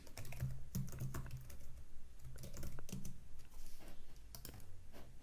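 Someone typing a password on a computer keyboard, a steady run of close, quiet key clicks with a low hum underneath.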